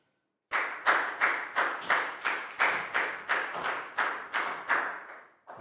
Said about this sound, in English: High five and a big round of applause for Dan